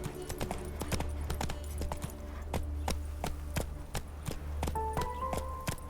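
A horse galloping in The Witcher 3, its hooves striking in a steady, rapid clip-clop rhythm, close and clear over a low rumbling background.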